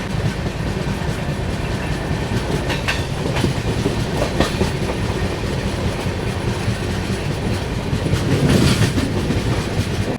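Sabarmati Express rumbling through a railway station, a loud steady roar of wagons with clickety-clack wheel beats throughout, briefly swelling near the end; no voices.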